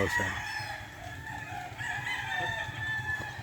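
A gamefowl bull stag at a game farm crows at close range, a long, clear cock-a-doodle-doo over constant farmyard background with other fowl faintly around it.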